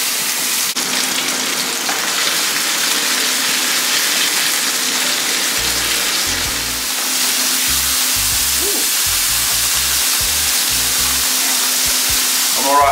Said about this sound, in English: Let's go to pan fry the jerk sea bass fillet. Skin down to start off with. That nice sizzle, as you can see it.